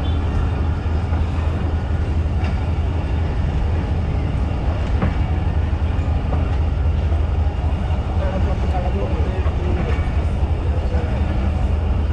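The Thal Express passenger train runs between Rawalpindi and Multan in a steady, close rumble heard from on board, with rhythmic rail clatter throughout and voices in the background.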